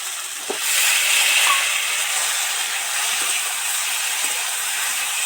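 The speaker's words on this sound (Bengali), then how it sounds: "আদা বাটা, রাঁধুনি বাটা দিয়ে এবার একটু সামান্য জল দিয়ে দেবো।" Water poured into ginger and radhuni paste in a hot pan sets off a steady, loud sizzling hiss that starts sharply and holds on alone.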